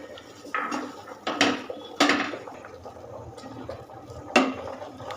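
Carrot sandesh mixture with chopped cashews being stirred in a pan, giving intermittent scraping and clinking strokes of a spoon against metal at close range, with no one speaking.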